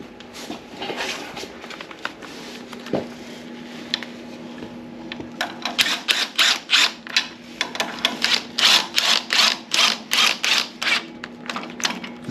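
Bolts on a Ridetech suspension part are tightened with a ratchet: close, crisp clicking that starts sparse, then turns into steady rhythmic bursts of quick clicks in the second half.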